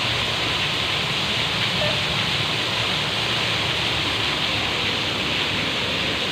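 A downpour of heavy rain hisses in a thick, constant wash, loud and close, filling the whole stretch without letting up.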